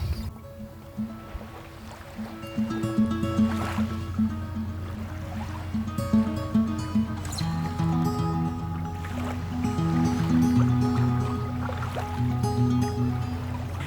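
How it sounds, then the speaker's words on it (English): Water ripples steadily past the bow of a sailboat gliding in very light wind off Denmark, a soft continuous wash under a low, steady hum. "the water kept rippling past our bow"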